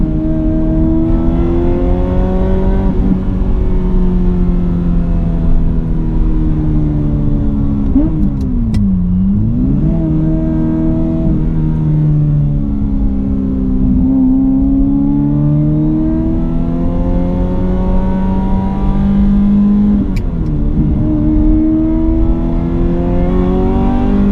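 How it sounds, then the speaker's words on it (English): A Ferrari F355 Berlinetta engine roars from inside the car during a shakedown drive after annual servicing, revving up and down through gear changes in a loud, continuous, high-pitched wail with sweeping pitch rises and dips. "I think the shakedown in the Ferrari 355 is definitely a success."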